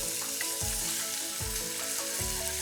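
Squid stir-frying over high heat with curry leaves, spices and aromatics, a steady close sizzle with a few soft bumps of stirring, no voices.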